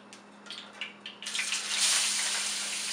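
Tuna steak laid into a pan of hot oil, giving a few soft clicks and then a steady, loud hiss of searing that builds and holds close by.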